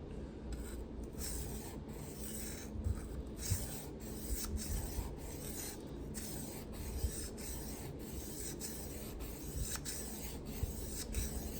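Sandpaper rubs against the bevel of a Ka-Bar knife in steady back-and-forth strokes with a close, raspy scratching texture and faint knocks, and no one speaks.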